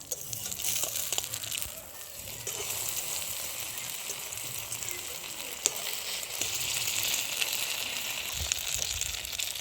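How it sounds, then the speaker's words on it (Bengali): Boiled Maggi noodles fry over low heat in a pan, a steady close sizzle with occasional stirring scrapes and soft patter throughout, no talking. "এভাবে হালকা আঁচে ভালো করে ভেজে নিতে হবে।"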